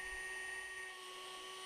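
High-pitched steady whine of a rotary tool bit carving lettering into elk antler for a belt buckle, continuous and close with a constant tone throughout.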